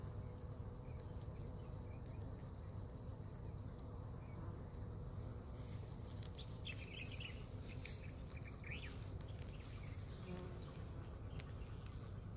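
Honeybees buzz around hives in autumn, a faint continuous hum of many insects with a few closer wingbeats passing by, steady and unbroken.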